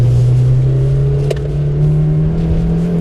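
Corolla FX16 race car engine pulling under throttle in second gear on track, a loud steady drone that climbs slowly in pitch as it accelerates, with a brief click partway through.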